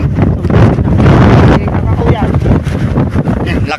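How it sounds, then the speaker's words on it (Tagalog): Strong wind on Mt. Batulao buffets the microphone in loud, rough gusts that swell and ease, with people talking through it. "Lakas ng hangin"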